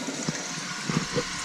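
Water runs into a newly installed water-saver toilet right after the supply is turned on, a soft steady rushing trickle with a few faint knocks and clunks, nothing spoken.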